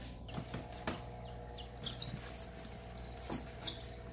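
Newly hatched chicks about two days old peep inside a homemade incubator, giving thin, high chirps scattered through the stretch over a low mechanical hum, with a few soft knocks and no talking.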